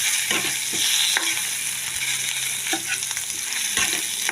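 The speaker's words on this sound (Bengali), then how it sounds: "আলুটা এইভাবে ভেজে নিয়ে মশলাটা আমি কষিয়ে আমি ফিরে আসছি" Potatoes fry in a pan with cumin, turmeric, salt and chili powder and are stirred over and over. A loud, continuous sizzle is broken by repeated scraping knocks of the spoon. No one speaks.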